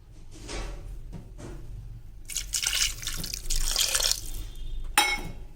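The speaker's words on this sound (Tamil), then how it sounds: "இப்போ நம்ம இதிலேருந்து இருத்து வச்ச அந்த தண்ணியை இதிலே ஊற்றிடலாம்." Reserved water poured into a stone pot of mashed tomato chutney, a side dish for idli and dosa; a close splashing pour follows two short soft sounds, then a brief sharp knock at the end.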